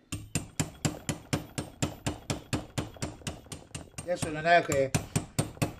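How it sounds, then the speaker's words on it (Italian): A small hammer taps gently on a Polini 75 cylinder for a Ciao moped, resting on a soft workbench, in a quick, even run of sharp metallic knocks; someone speaks briefly partway through. "Adesso io prendo il martellino, come faccio di solito, lo colpettino piano piano"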